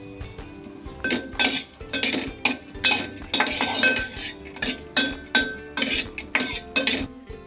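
Raisins roasting in ghee in a pan while being stirred for dry fruit laddoos: a steady run of metallic scrapes and clinks from a spoon against the pan, repeating in quick irregular strokes, close and fairly loud.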